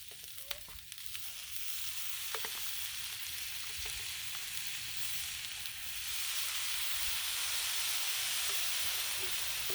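Garlic sizzles on a flat-top griddle alongside smoked sausage and vegetables, a steady broadband frying hiss lasting throughout with a few faint clicks and scrapes, no talking.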